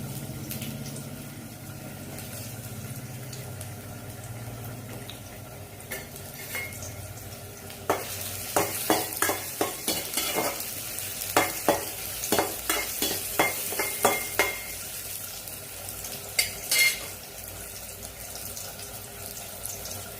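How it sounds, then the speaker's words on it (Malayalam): Chopped onions fry in a little coconut oil for a Kottayam-style beef curry, with a steady sizzle and, from about eight seconds on, a run of sharp spoon-on-pan scrapes and knocks as they are stirred. No one speaks. "ലേശം വെളിച്ചെണ്ണ ഒഴിച്ച് കൊടുക്കും കുറച്ച് മതി കേട്ടോ ഇനി അതിൻ്റെ അകത്തേക്ക് നമ്മൾ അരിഞ്ഞു വെച്ചിട്ടുണ്ടല്ലോ ഉള്ളി അതങ്ങോട്ട് ഇട്ട് കൊടുക്കാം"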